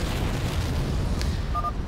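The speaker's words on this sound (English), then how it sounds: "Boom! Nuclear silos destroyed." Nuclear silos blowing up in StarCraft 2: Heart of the Swarm, a loud sustained rumbling blast with a crackling burst near the end and a short electronic tone, no voices.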